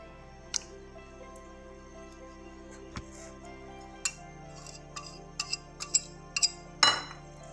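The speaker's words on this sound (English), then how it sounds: "I'm going to whisk the egg a bit." Metal whisk beating an egg in a bowl, a run of light clinks and taps against the side that grow quicker and louder toward the end, with a steady low hum underneath.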